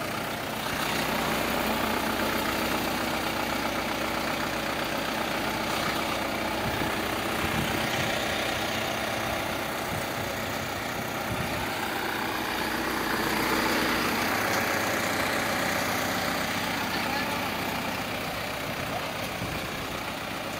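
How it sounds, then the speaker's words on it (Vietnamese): The engine of an Iseki 607 tractor idles smoothly and steadily, a continuous close rumble with a broad mechanical hiss and no voices. "Động cơ nổ rất là êm các bác nha."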